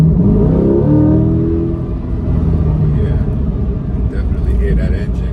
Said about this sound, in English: Hear that engine, it just screams.